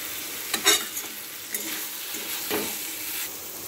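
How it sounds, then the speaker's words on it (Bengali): Muri ghonto is stir-fried in a pan, with a continuous soft sizzle and a few scraping stirs of a utensil near the start. "এবার এটাকে এটার সাথে ভালো করে কষে নিতে হবে।"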